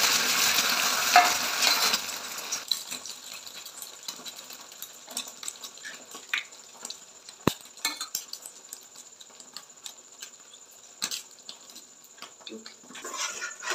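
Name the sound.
double egg omelette frying in a pan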